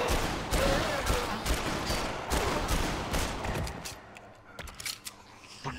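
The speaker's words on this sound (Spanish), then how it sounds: "No sé por qué le disparo con un arma" Rapid bursts of gunfire crackle in quick succession in the video game Dead Island, then thin out into scattered single shots against a quieter background.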